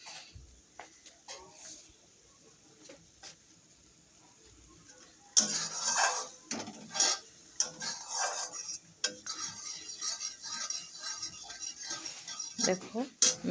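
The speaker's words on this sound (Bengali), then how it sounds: "দেখো আমি বারবার নেড়ে দিচ্ছি মশলাগুলিকে।" Spices cooking with yogurt in a pan for spiced paneer are stirred repeatedly, giving irregular scraping and clinking strokes that grow louder after a quiet start, with faint sizzling beneath.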